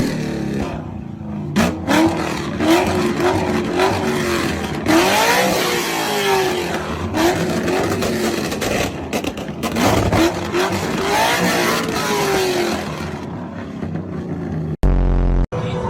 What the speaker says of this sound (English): I remember when people used to modify their exhaust just to sound good.